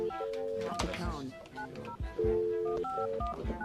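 Several bursts of touch-tone telephone dialing beeps, steady paired tones in quick succession, sounding alongside people talking.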